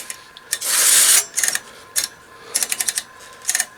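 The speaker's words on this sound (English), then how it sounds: "Move the mode switch back and forth." Band select switch on a Kenwood TS-520 ham radio turned back and forth after contact cleaner is sprayed, a run of crisp close clicks in quick bursts with one longer spraying hiss.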